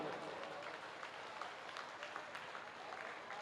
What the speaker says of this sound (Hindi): एक बार अपने माता पिता के चरणों में तालियां तो बजा दो दोस्तों